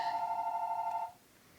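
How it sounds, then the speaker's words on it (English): A telephone rings once with a steady, bright electronic bell tone lasting about a second, then cuts off to quiet room tone. "Pardon the phone, y'all."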